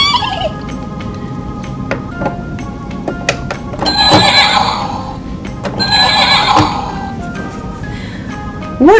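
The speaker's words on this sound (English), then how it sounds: "What sort of sound does a horse make?" A horse whinnies in a couple of loud, bright bursts with scattered clip-clop hoof knocks between them, close and alone with no talk.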